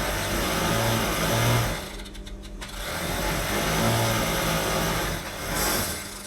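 Sewing machine running continuously as it stitches checkered fabric with coloured thread, a close, busy mechanical whirr that pauses briefly midway and then resumes.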